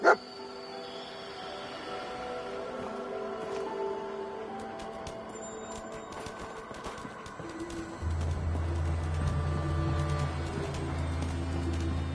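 Dogmeat, a companion dog in a PS4 game, gives a few short barks and yips over game ambience of birds and tones, ending in a steady low hum.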